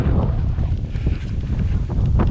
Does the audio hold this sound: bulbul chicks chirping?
no